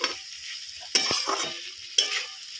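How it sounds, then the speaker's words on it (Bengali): Chow mein noodles being stir-fried with vegetables and fried egg in a pan: a steady sizzle broken by a few sharp scraping stirs of the utensil, close and alone. "দেখুন এবার আমি চাউমিনটা দিয়ে দেবো।"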